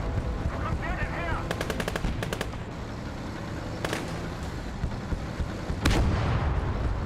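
Heavy gunfire from a big gun in the MegaMek Battletech tabletop video game, with loud rapid bursts and booming shots over a constant rumbling battle bed, with several distinct volleys.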